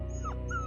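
A black puppy gives a short, thin whimper, two high whining tones over a steady low hum, faint and brief.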